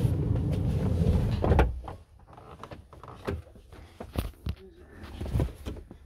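A camper van door is unlocked and opened at night, with a burst of rumbling and rattling followed by several sharp clicks and knocks of the latch and door, close and moderately loud.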